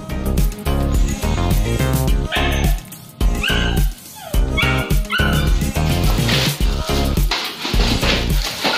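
A dog yips, barks and whimpers repeatedly up close, its calls tangled in a loud, busy background.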